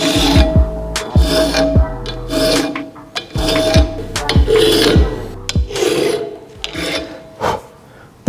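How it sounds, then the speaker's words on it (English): A metal file rasps over the cutting teeth of a stone-carving bushing chisel to sharpen it, giving repeated loud close strokes in a steady back-and-forth rhythm with brief pauses between passes. "we can move on to the actual sharpening of this bushing chisel"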